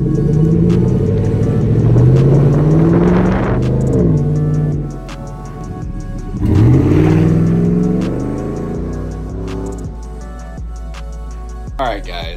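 A 2015 Chevrolet Silverado pickup with a Borla S-Type cat-back exhaust rumbles and revs up loudly, deep engine roar rising and falling in two strong pulls before settling to a throaty idle.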